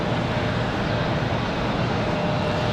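A Republic Airways Embraer E175 jet roars steadily at an airport on a windy day, a loud continuous broadband rush of engine noise with no gaps.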